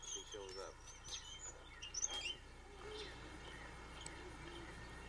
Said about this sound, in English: Whenever she sees her, she'll stand and screech as if to warn the other bird.